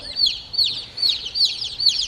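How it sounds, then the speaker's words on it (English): Baby chicks peep in a steady run of high, bright chirps, repeating about every half second and fairly close, with no talking over them. "Come on, chickies."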